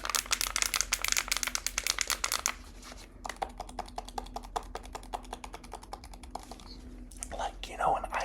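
Rapid, crisp fingertip tapping on an ASMR trigger item, close and dense in quick bursts, pausing briefly before resuming at a steady pace.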